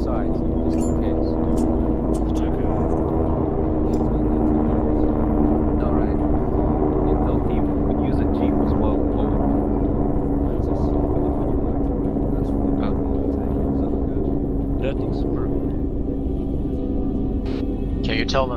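A helicopter rumbles nearby in Metal Gear Solid V as a steady, loud low drone that holds throughout, with voices talking over it.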